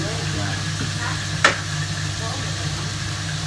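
Fish frying in a pan, a soft continuous sizzle under a steady low hum, with one sharp clatter partway through.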